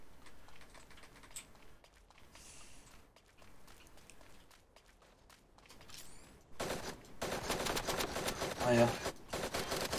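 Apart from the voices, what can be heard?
sniper gunfire in a video game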